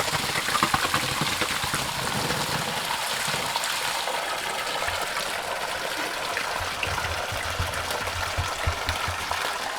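Dirty water pouring and gushing down through a household water filter from above, a loud, continuous splashing rush with slight flutter that holds steady for about ten seconds.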